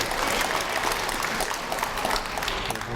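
A crowd applauds steadily at a model house opening ceremony in Haeundae, Busan, a dense wash of clapping hands filling the space throughout, with no speech on top.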